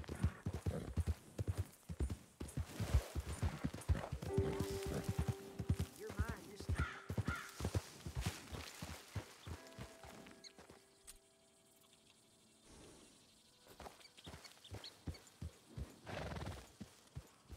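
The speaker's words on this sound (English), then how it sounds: "My poor horse." A horse's hooves clip-clop in quick rhythmic runs in Red Dead Redemption 2, with snorts and a whinny, pausing briefly before the galloping hoofbeats return, all fairly close and clear.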